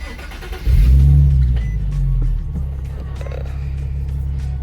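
A Ford 5.0 engine warm-starts with a sudden loud low roar, revs up briefly, then settles into a steady, deep idle rumble, close and loud with no talking.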